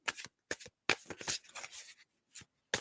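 Playing cards being shuffled by hand in quick bursts, crisp riffling flutters repeated several times with short pauses between, close and fairly quiet, with no talking over them.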